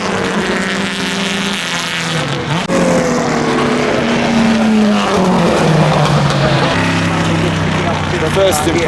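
Racing cars on a wet track at the Goodwood Revival, engines roaring and pitching down as they pass close and loud, with a steady wash of noise and voices underneath.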